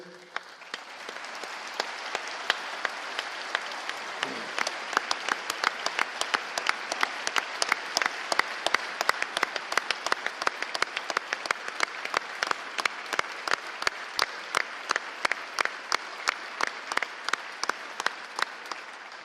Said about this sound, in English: she got more applause than Monsignor Kawicki did